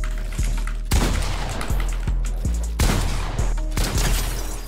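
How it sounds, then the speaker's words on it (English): Gunfire in the video game Fortnite, a loud, close series of rapid shots in bursts with short gaps between volleys, heard alone without talking. "Oh, I'm missing every shot."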